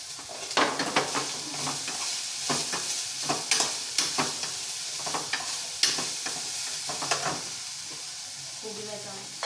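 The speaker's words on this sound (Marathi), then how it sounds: "त्याचप्रमाणे आपण आता कोबी टाकून घेऊया।" Cabbage stirred and fried in a pan as gobi samosa filling: a steady sizzle with scraping stir strokes and light clinks of a utensil on the pan, close and fairly quiet, with no talk.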